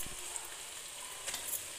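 Gajar ka halwa with almonds, pistachios and khoya roasting in a pan, giving a soft continuous sizzle with faint stirring scrapes, quiet and close, no voices.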